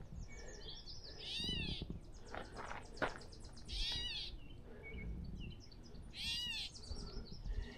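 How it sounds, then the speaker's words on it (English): Repeated bird calls with rising, whistled chirps in short bursts, fairly loud and close, over a busy outdoor background on the Montour Trail. "that's an interesting bird call over there, crying like that."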